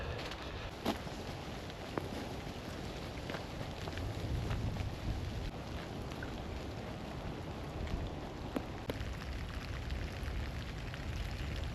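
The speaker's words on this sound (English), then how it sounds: "Most of the sleet's gone, but it's just heavy rain now." Heavy rain falls steadily during an outdoor walk, with sleet mostly passed, forming a constant broadband hiss with scattered drip and splash ticks close by, no talking.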